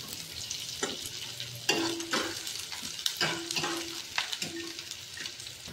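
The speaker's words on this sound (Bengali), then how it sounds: "পেঁয়াজ দিয়ে দেবো। দিয়ে 1 মিনিট মতো নাড়াচাড়া করবো।" Onions sizzle in hot oil in a pan for chilli chicken, with repeated spatula scrapes and stirring strokes over a constant close-up frying hiss.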